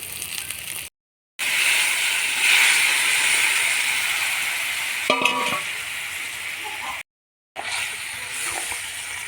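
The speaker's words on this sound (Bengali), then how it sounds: "এবার বাঁধাকপি আলু সেটা ঢেলে দেবো।" Cabbage and potato tipped into hot oil and fried spice paste, a loud continuous sizzling hiss with stirring scrapes and a brief clink, cut by two short silent gaps.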